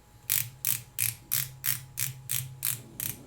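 The rotating bezel of a Seiko 7002-7039 diver watch clicks as its ratchet is turned, giving nine crisp, evenly spaced metallic ticks, close and clear.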